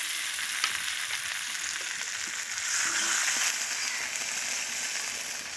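Vegetables sizzle loudly in a pan after water is poured in, a dense, continuous hiss that swells slightly partway through, close and steady with no voices.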